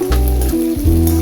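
Sliced onion sizzles in hot oil with green chilies and curry leaves over medium heat, a short burst of loud crackling frying with a brief stir partway through.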